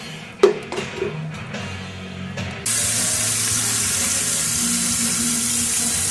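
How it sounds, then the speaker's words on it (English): Well water runs from a household faucet into a container, a steady broadband rushing hiss that starts abruptly after a few seconds of quiet handling clunks and continues unbroken at close range. "Going to go fill this up full of water."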